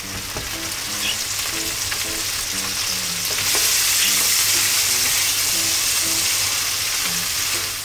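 Garlic, chili and anchovies fry in oil in a frying pan over medium-low heat, a steady close sizzle with repeated soft scraping and tapping as a silicone spatula breaks them apart; the sizzle swells louder midway.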